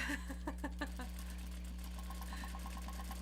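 Sewing machine stitching curved seams on a Japanese fabric bag, a steady mid-pitched motor hum with rapid needle clatter, fairly close and running continuously without speech.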